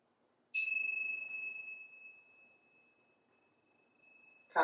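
A meditation bell is struck once during a beginner's standing yoga sequence, ringing clear and bright with a long, slowly fading sustained tone in a quiet room, followed by a faint soft knock at the end.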